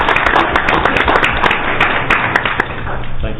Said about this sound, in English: Worth a round of applause, Dave